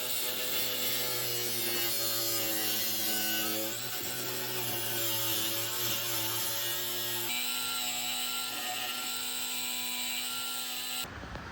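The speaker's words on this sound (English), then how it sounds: "we do need to cut a little bit in order to get the diff bolted in the subframe." A cutting tool notches the body of a Nissan S13 to clear a quick-change differential, making a continuous droning, whining buzz that holds steady and shifts pitch slightly partway through, close and unbroken until it stops abruptly near the end.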